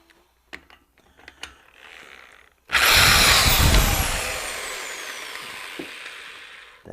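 A power tool runs in reverse to loosen the flywheel nut on a Honda E1500 generator. After a few faint clicks and handling taps comes a sudden loud, sustained whir that slowly eases off.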